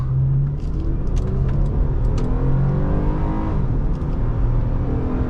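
A 2007 Honda Accord Coupe EX-L V6 accelerating hard in a performance run, a loud, steady engine roar with rising harmonics that climbs continuously for the whole stretch, with no talk over it.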